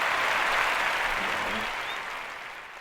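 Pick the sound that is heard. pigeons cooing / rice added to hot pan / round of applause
round of applause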